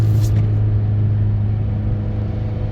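A turbocharged SRT-4 or PT Cruiser GT with a manual gearbox pulls hard in second gear, its engine giving a steady, loud, close drone throughout, with no talk over it.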